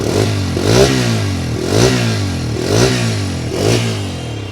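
A Bajaj Freedom 125 CNG motorcycle engine running on petrol, a close, steady idle with a throaty putter that swells in regular pulses about once a second.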